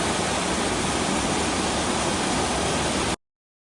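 Henry Falls, a waterfall in the 100 Mile Wilderness, pours as a steady broadband rush of falling water, close and loud, continuing evenly before cutting off abruptly near the end.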